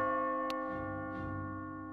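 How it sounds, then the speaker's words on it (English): A single bell strike in the video game Catherine Classic rings out with a long, sustained metallic resonance that slowly decays, clear and fairly close, with a faint second swell partway through. "As you near the top, you will hear a bell ringing."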